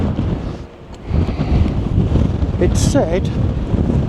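Strong coastal wind buffets the microphone in a steady low roar, with a brief voice partway through.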